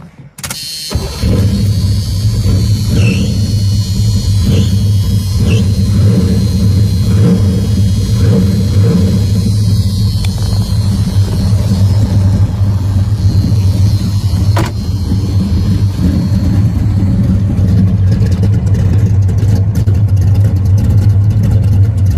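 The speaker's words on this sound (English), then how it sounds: "that's your factory exhaust sound that I have, or through the mufflers I should say" A muscle car's V8 fires up after a brief starter crank and settles into a loud, steady, deep idle with occasional blips through its factory exhaust mufflers, heard up close and continuously with no talking.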